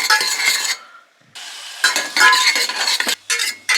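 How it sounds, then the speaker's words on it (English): Food sizzles loudly in a hot pan, crackling in bursts with a brief quiet gap, then resumes with clinks of a utensil stirring. "Starts sizzling away."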